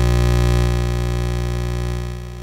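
Synthesizer oscillator sounding a sustained buzzy harmonic tone, steady and loud, slowly fading toward the end with no voices.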